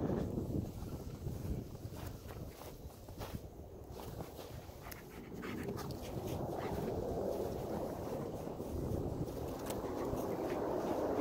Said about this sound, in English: Got 50-mile-an-hour winds, so it's a little brisk despite the warm temps.